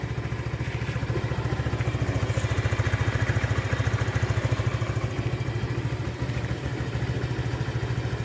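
A Rusi Flex 125i motorcycle engine runs just after being started, idling with a loud, steady, rapid putter close by and no talking.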